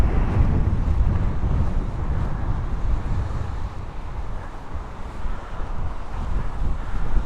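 Sea waves breaking along the lava-rock coast of Lanzarote, a steady low rush of surf with strong wind buffeting the microphone throughout, continuous and fairly loud with no voices.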